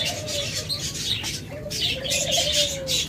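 Diamond doves kept in breeding cages with nest pots, giving soft repeated coos with a steady wash of chirping birds behind them, close and continuous.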